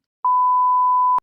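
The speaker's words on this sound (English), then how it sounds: "I need to beep its name out here because I have to say it" A single steady electronic censor bleep, a pure tone lasting about a second, sounds cleanly and loudly over silence on a podcast.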